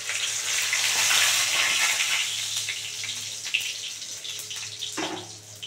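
Bay leaf, dried red chilli and cumin seeds dropped into hot oil left from frying lentil dumplings, for a bottle gourd and prawn curry; a strong, continuous close sizzle that gradually settles, with a soft knock near the end.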